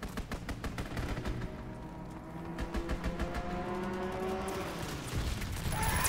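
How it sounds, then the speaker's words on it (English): Fighter plane strafing run in Call of Duty: WW2, rapid bursts of machine-gun fire in a fast repeating rhythm with mechanical rattling, fairly faint and distant, tapering off then returning in a denser burst near the end. "Fighter pilot inbound, strafing the target"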